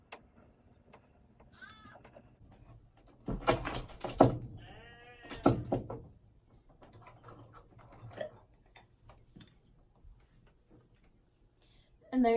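A goat bleats outdoors before milking, with a few loud, wavering cries in the middle and softer calls around them over quiet farmyard background.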